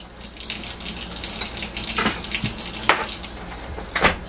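Water and oil pour steadily into a bowl for sourdough tortilla dough, with splashes and gurgles rising and falling over a few seconds.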